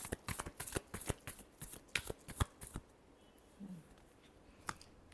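A deck of tarot cards being shuffled up close, with quick, crisp riffling bursts in a rapid rhythm for a few seconds before they trail off into near silence and one last soft tap.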